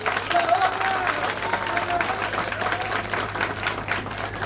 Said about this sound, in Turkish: O yüzden biz de varız diyorum ve kocaman bir alkış istiyorum.